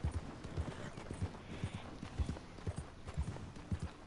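Horse hooves clip-clop at a steady walking rhythm in Red Dead Redemption 2, a tired horse plodding along with close, moderately loud thuds and no talk over them.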